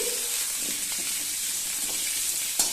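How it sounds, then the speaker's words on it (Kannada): Drumsticks frying in oil on a tawa, a close, even hiss of sizzling with soft scraping stirs scattered through and a brief clink near the end, no voices. "ನುಗ್ಗೆಕಾಯನ್ನ ಎಣ್ಣೆಯಲ್ಲೇ 1-2 ನಿಮಿಷದ ಕಾಲ ಸ್ವಲ್ಪ ಫ್ರೈ ಮಾಡ್ಕೊಳ್ಳಿ"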